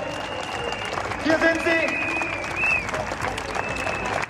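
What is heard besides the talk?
crowd applause at a Berlin demonstration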